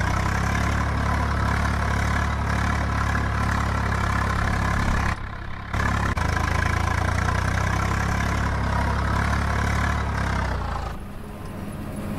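Tractor engine running in Farming Simulator 22 with an Indian mod, a loud, steady droning idle with one brief cut-out midway before resuming, then dropping in level near the end, no talking.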